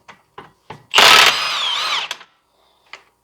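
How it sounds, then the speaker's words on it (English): An impact gun fitted with a chrome socket removes a center nut on a Jeep Patriot rear wheel hub, giving one loud, close, sustained rattling hammer of about a second amid a few light clanks. "I'm using a chrome socket on an impact gun"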